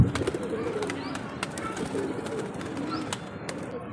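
Pigeons coo softly nearby while they feed, with scattered light pecking clicks and no talk.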